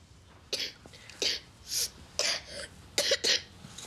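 A string of small, dry coughs and throat-clearing bursts, irregularly spaced and fairly quiet, with no speech.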